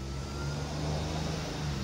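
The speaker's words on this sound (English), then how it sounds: "Lots of traffic noise" Traffic on a busy street is heard as a constant low rumble of passing vehicle engines that stays even and moderately loud, with no voices.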